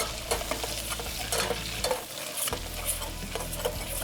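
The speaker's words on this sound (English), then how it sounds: "we're going to give it a little stir" Garlic, red chili flakes, Italian seasoning and parsley are stirred in a sizzling pan, with repeated scraping and clicking utensil strokes over a continuous close frying hiss and a short lull midway.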